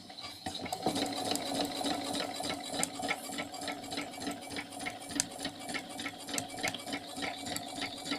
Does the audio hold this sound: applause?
no